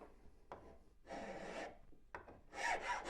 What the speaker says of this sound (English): a nice coarse rasp and away we go